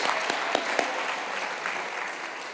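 A crowd applauding steadily for a couple of seconds at a high school commencement ceremony, with a few sharper individual claps standing out.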